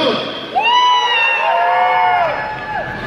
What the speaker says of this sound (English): Make some noise for Chad Dunk